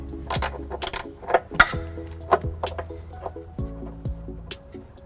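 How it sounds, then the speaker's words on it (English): A 12 mm socket wrench ratchets bolts loose on a 2016 Toyota Highlander, giving several quick bursts of metallic clicking with short knocks in between, close by and with no talk. "Next I'll be removing these 2 bolts here with a 12 millimeter socket."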